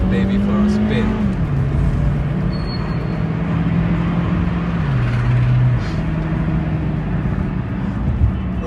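A 2007 Honda Civic pulling away, its engine a steady drone that rises and falls with gear changes, close and loud, with a voice talking over it at times.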